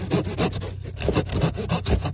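A tactical hunting dagger's serrated saw back is drawn back and forth through wood, giving repeated rasping strokes in a steady rhythm, close and fairly loud with a low hum underneath.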